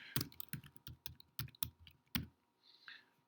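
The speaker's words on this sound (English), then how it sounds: "Don't you hate typing when people are watching you?" Quick bursts of keyboard typing, irregular clicks and clacks up close, pausing near the end with a faint high-pitched tone.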